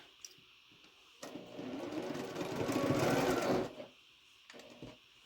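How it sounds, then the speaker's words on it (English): A sewing machine stitches quilt block rows together in one continuous run of a few seconds, rising to a steady whir and stopping, with soft handling sounds before and after. "Now we're going to sew those rows together."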